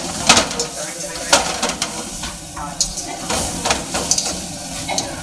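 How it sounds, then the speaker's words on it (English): Shrimp sautéing with garlic and hot chilies in a hot pan, giving a bright, busy sizzle with repeated sharp clinks and scrapes of utensils against the pan. "Shrimp is sauteed with a little bit of garlic and hot chilies."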